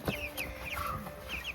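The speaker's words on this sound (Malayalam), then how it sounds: "അടക്കൂല കോഴിക്കുഞ്ഞുങ്ങൾ" Chicks cheeping and clucking near an outdoor cooking spot, a string of short high chirps repeating close by against faint background noise, without talking.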